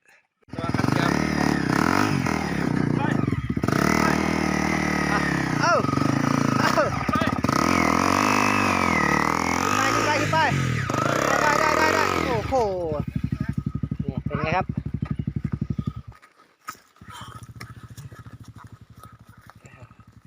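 Dirt bike climbing the second hill at Noen Maduea, its engine revving hard and close in long surging bursts, then dropping to a rough, pulsing idle, with people talking and shouting throughout.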